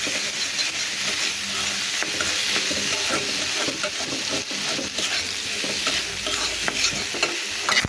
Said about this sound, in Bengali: মাছ লাল হয়ে ভাজার আগ পর্যন্ত আমি এভাবে নেড়ে চেড়ে নেব